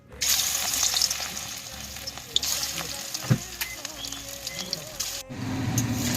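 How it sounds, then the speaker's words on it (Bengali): Rice-flour fritters crackle and hiss in hot oil, a busy close sizzle scattered with pops and occasional utensil knocks that drops out briefly near the end before resuming. "এবার বড়াগুলো ভেজে নেবো"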